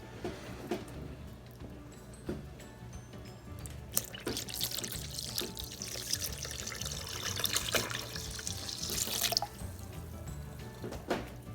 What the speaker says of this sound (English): And then we're gonna add 4 cups of water.